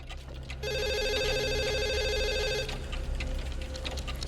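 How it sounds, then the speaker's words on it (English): A telephone in the game Nameless Hospital gives one loud, electronic ring lasting about two seconds over a low droning ambience. Faint scattered noises follow after the ring stops. "Phone rings."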